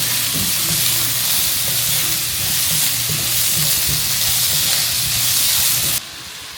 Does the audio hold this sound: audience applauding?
no